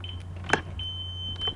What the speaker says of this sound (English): It's my little beepy alarm thing because my parents are paranoid.